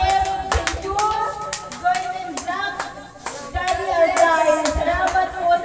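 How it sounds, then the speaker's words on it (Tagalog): An audience at a christening claps together, a steady patter of many hands near and fairly loud throughout, with a few sharper individual claps, a brief dip midway, and voices murmuring underneath. "ang palakpak naman dyan"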